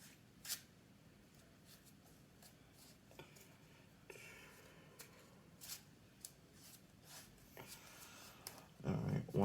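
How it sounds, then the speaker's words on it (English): During a round of the DC Deck Building Game, a small deck of cards is shuffled in several brief riffles and taps close to the microphone, faint and intermittent, with a louder clatter at the end. "So I need to shuffle for 2."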